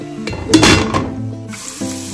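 Onions frying with ginger-garlic paste in a pot of shrimp biryani base crackle and sizzle while a lid clanks into place, with a short burst of metallic contact amid the steady frying.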